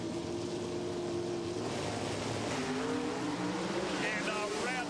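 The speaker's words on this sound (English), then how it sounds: "The motor's up against the limiter." A 1994 NHRA Winter Nationals pro stock drag racing car engine holds against its rev limiter, a loud sustained droning roar with wavering pitch, heard beneath a race announcer's commentary.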